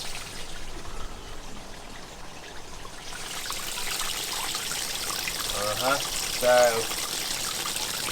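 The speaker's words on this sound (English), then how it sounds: "We're filling up with water!" Water runs from a hose into an inflatable Canadian Spa Grand Rapids hot tub, a soft steady trickle and pour that swells after a few seconds, with brief voices talking over it near the end.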